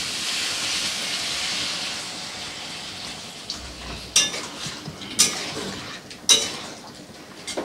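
Water hits hot frying spices in a pan, a close steady sizzle and hiss that slowly fades, punctuated later by a few sharp clinks of a utensil against the pan.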